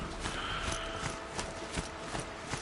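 Heavy rhythmic footfalls of a strider robot mount in Horizon Zero Dawn, clip-clopping like a horse at a walking pace, evenly spaced thuds under a busy game soundscape.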